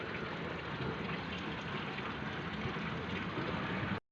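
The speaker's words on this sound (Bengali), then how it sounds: "এখানে গামলার মধ্যে জল ভরছি তো গাছের গোড়াতে দেবো" Water pours steadily into a basin in a home garden, a constant gushing rush at moderate level that cuts off abruptly at the end.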